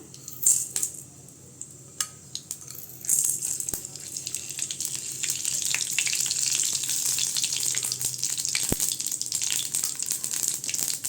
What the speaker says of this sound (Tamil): இப்போ எண்ணெய் சேர்த்துக்கலாங்க கடுகு சேர்த்துக்கலாம்